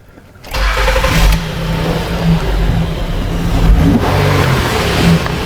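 A 2011 Honda Pilot with a surging and stalling problem cranks and fires up, then takes a light blip of throttle that rises and settles into a steady, close engine idle with no talking over it.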